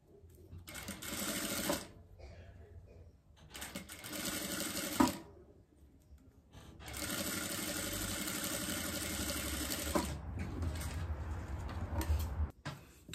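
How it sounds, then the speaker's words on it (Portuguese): Sewing machine stitching bias binding along the edge of a fabric diaper holder, close and steady, running in several bursts of rapid mechanical whirring separated by short pauses. "Encaixo meu viés. E venho costurando bem na beiradinha."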